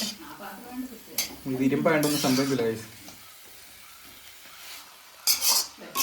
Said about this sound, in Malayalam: ഇളക്കുമ്പോൾ എന്താണ് താങ്കൾക്ക് തോന്നുന്നത്? പാത്രം ഇപ്പൊ പൊട്ടിക്കും തോന്നുന്നുണ്ട്.